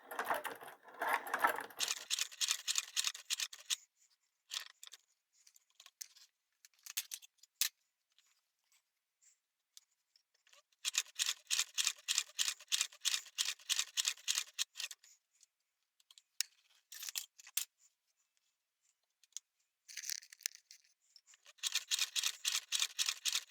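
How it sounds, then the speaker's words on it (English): Leather is cut with shears into a one-inch-wide strip for piping on a machete sheath, giving bursts of crisp snipping in quick rhythmic runs separated by short pauses, close and fairly quiet, with no talking. "Alright, so we cut a piece for the piping."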